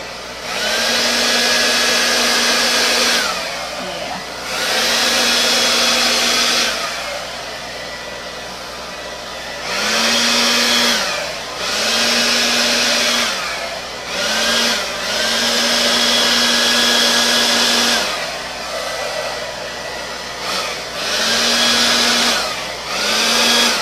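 A hair dryer blows paint across a metallic Dutch pour, its loud, steady whirring switched on and off repeatedly in bursts of a few seconds with brief quieter gaps between.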